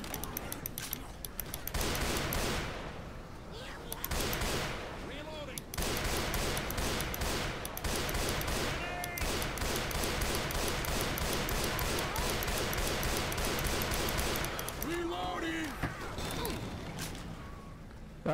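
Video game gunfire in Left 4 Dead 2, sustained rapid automatic bursts and repeated shots filling most of eighteen seconds, loud and dense with brief gaps, while players talk intermittently under the shooting.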